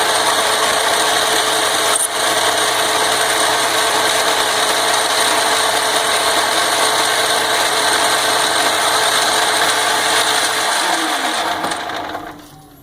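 An Atlas Quick Change 54 metal lathe takes a cutting pass on a metal workpiece, giving a steady loud machine whine with a sharp tick near the start, running evenly before spinning down and fading at the end.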